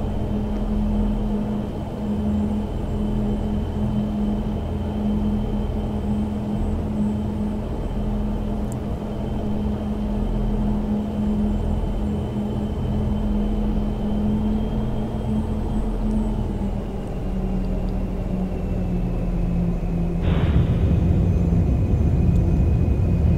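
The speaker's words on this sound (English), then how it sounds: "Using the reverser just lifts that tail end right up there." A C-130 transport plane in X-Plane 12 rolls out after landing with a steady, droning turboprop engine hum; near the end the thrust reversers kick in, adding a sudden louder roaring rush.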